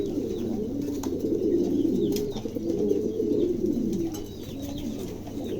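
Several pairs of domestic pigeons, including blue-barred birds kept for sale, coo continuously up close, their soft overlapping burbling rolling on steadily without pause.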